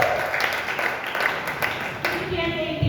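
Scattered, subdued applause from a church congregation, a soft diffuse patter of hands filling the room steadily for a few seconds with no one speaking over it.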